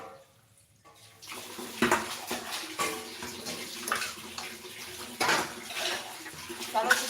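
Tap water runs and splashes while meat is washed in a home kitchen, a fluctuating gush with surges and handling sounds; voices are faint underneath.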